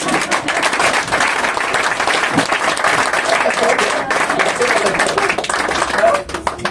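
A church congregation claps loudly to acclaim Jesus, a dense, sustained wash of applause from a crowd in the sanctuary, with voices mixed into it.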